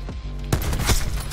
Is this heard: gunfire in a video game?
yes